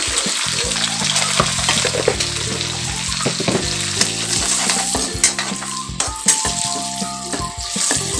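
Onions sizzling and frying in a pan for a home-cooked birthday meal, a steady crackling hiss with repeated stirring scrapes and a soft clink of utensils, close and continuous throughout.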